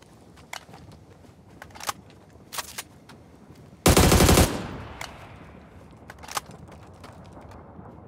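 A 5.56 rifle fires in PUBG: one loud, sustained automatic burst of about half a second, standing well above sparse scattered clicks and distant shots in the surrounding quiet.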